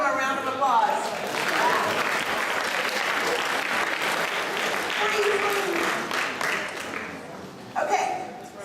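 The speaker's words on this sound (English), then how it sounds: "Y'all give him a round of applause." An audience at a school equity and inclusion symposium breaks into sustained applause, a full crowd of clapping hands with a few chuckles and voices mixed in, fading slightly before a brief swell near the end.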